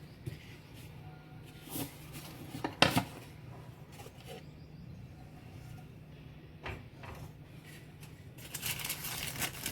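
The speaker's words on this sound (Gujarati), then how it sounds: "હવે આપણે આ એક પ્લેટ લઈશું હવે એને આ રીતે મૂકીશું અને ધીરે રહીને કેકને પલટાવીશું" A cooled homemade sponge cake is turned out of its pan onto a plate, with faint clinks and knocks of pan and plate scattered through quiet handling noise.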